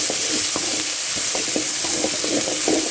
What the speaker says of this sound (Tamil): நல்லா கோவக்காவை நல்லா வதக்கிக்கிங்க.